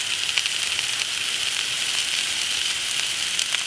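Hibachi-style vegetables sizzle on a Blackstone flat-top griddle with a dense, constant hiss of frying and occasional light crackles, close and steady, with no talking.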